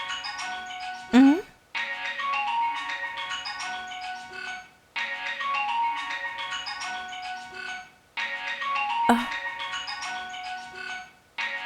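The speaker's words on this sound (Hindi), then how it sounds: "तू हमार फोन के रिंगिंग टोन सुना तारा ना?" Phone ringtone playing a repeating melodic tune in recurring bursts with short gaps, fairly loud and near, with a brief voice sound between rings.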